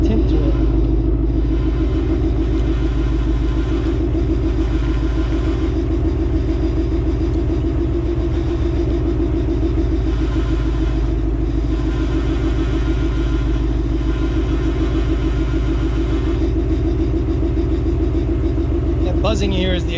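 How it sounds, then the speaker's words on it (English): A Vortech-supercharged 2019 Ford Mustang GT idles steadily with a deep, lumpy rumble, close and continuous for the whole stretch, with only small variations. "I'm just gonna let the car idle for a little bit."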